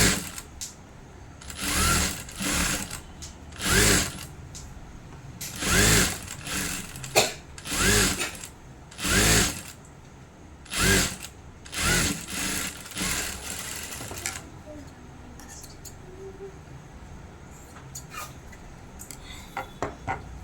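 A sewing machine top-stitches a back boat neck, front deep neck blouse in repeated short bursts of rapid whirring, separated by brief pauses, then falls quiet near the end.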